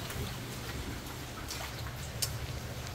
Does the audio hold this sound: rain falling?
yes